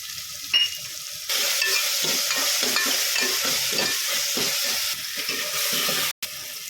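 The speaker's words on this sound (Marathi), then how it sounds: "बारीक केलेले टमाटे चांगलं तेलपर्यंत हलवून घेऊया" Chopped tomatoes stirred into hot frying oil for a dry pea curry, a steady close sizzle with repeated scraping strokes of the spoon, a brief clatter near the start and a short cut near the end.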